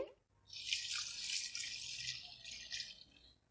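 Water is poured from a glass into a pot of cut spinach for boiling in a kitchen. It makes a steady, soft hiss of splashing that runs for about three seconds at close range, with no talk over it.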